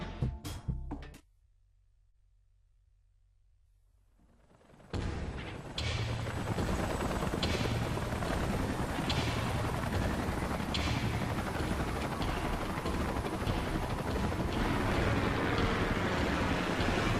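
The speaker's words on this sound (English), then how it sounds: "Let's call in the salvage choppers and get it out of here." Salvage helicopters arriving in the video game Xenoblade Chronicles X, a loud rhythmic rotor chop and engine roar that bursts in after a short near-silent pause and continues steadily and close.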